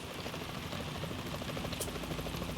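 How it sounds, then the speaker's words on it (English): A helicopter in the Metal Gear Solid 2 tanker chapter gives a steady, dense rotor drone with a rhythmic chop, continuous and moderately loud, alone without talk. "Is all that a chopper I just heard?"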